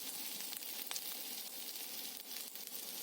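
Powdered spices hit a hot pan, giving a soft, continuous sizzle with a few light crackles and stirring scrapes, heard alone and at a low level.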